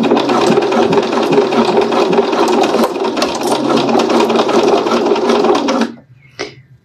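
A sewing machine stitches a fabric pouch at a 0.8 stitch setting, running steadily and loudly for about six seconds before stopping, followed by a short, faint mechanical clack.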